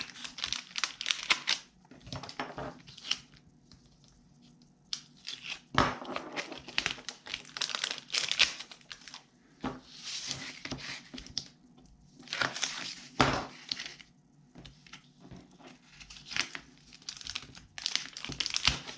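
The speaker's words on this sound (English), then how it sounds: "we can just start removing the other pieces of the tape backer" Backing paper peeling off strips of tape on a homemade vaccination card holder gives bursts of close crinkly, tearing rustles separated by quieter pauses, with no one talking.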